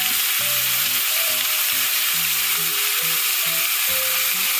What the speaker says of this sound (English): So now I'm going to go ahead and add in my noodles.